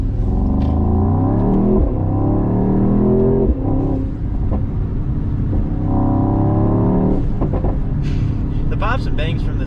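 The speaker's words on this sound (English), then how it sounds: "Pops and bangs from this car are just absolutely insane." A Mercedes-AMG GT 55 with a Renntech exhaust roars loudly throughout from close by, its engine note rising and falling with popping and crackling bursts, and a person talks over it.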